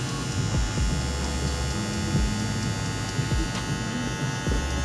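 WMARK 2039 hair clipper motor running at its low 7,500 RPM setting, a steady, fairly quiet buzzing hum held close and unbroken throughout with no talk.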